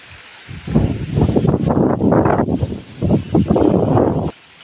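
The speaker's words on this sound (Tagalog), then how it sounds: "Tingnan mo yung sobrang lakas ng hangin." Strong typhoon wind roars steadily through trees at a house, a loud continuous rushing with gusting surges and leaves thrashing, no talk over it.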